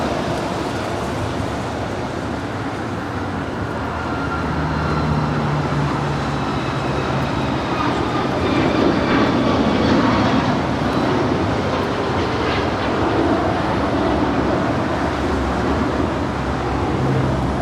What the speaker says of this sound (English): That is United 752 departing to Houston. It's a 737 MAX 9.